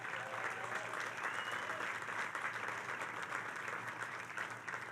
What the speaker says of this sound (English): Let's give a big round of applause to County Executive Laura Curran